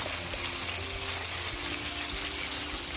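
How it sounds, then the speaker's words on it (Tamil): Chicken pieces fry in a pan, a dense broadband hiss of sizzling oil held steady and close, with a faint low hum beneath. "ஒருக்கா லேசாக கிண்டி விடணும். அப்போ தான் சிக்கன் ஒன்றோடு ஒன்று ஒட்டாமலுக்கு தனித்தனி துண்டுகளாக வடிவாக பொரிஞ்சு வரும்"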